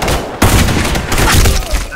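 Gunfire from the online shooter game Black Squad during a clan war match, a dense burst of shots with booming thumps that starts abruptly and keeps rattling loudly to the end, with players' voices mixed in.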